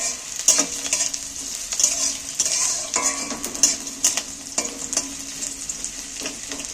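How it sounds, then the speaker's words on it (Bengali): Steady sizzling of onions frying in hot oil until browned, with a bright hiss throughout and occasional clinks and scrapes of stirring. "পেঁয়াজটা ভাজা ভাজা হয়ে এসছে পেঁয়াজটা একটু ভালো করে লাল করে একটু ভেজে নেব"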